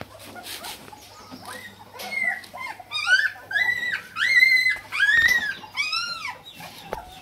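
Young female Rajapalayam puppy about eleven days old, eyes just opening, giving a run of thin rising whimpers and squeals, close and fairly loud, one after another with short gaps.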